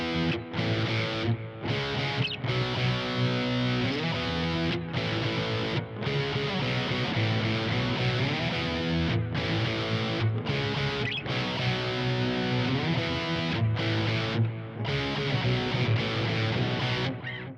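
Distorted electric guitar power chords play the riff of a song using a movable E-shape, loud and steady with rhythmic chord hits and short breaks between phrases, no voices.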